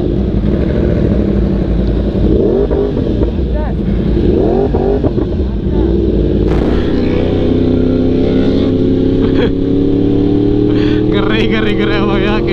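A Yamaha R1M motorcycle roaring loudly and continuously as it is ridden on a road in Lombok near Mount Rinjani. The engine note rises steadily as it accelerates, with heavy wind buffeting over it.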